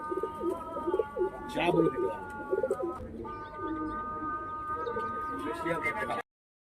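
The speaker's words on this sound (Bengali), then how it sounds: "এই পায়রাগুলো তোমরা দেখতে পাচ্ছ" Pakistani high-flying pigeons coo softly and repeatedly nearby, with a person talking over the cooing and a brief rustle midway.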